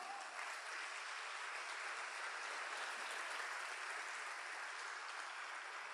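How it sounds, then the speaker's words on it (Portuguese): A church congregation claps for the Lord during a prayer service, giving a continuous wash of many hands that holds steady and fairly soft, as if heard from some distance, with no voices on top. "dá um aplauso ao Senhor"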